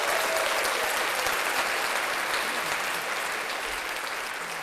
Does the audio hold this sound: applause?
yes